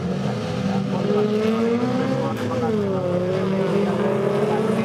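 Race cars in a Finnish jokkis folk race drone and rev continuously, their engine pitch rising and falling as they accelerate into a bend, loud and steady with a commentator talking over them.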